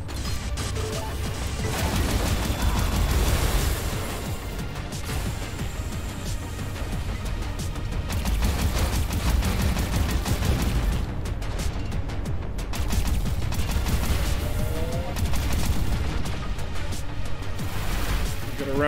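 Space combat in the video game Everspace 2, with rumbling explosions and crashing impacts layered over dense game sound effects and music, loud and continuous with bursts and swells across the whole stretch.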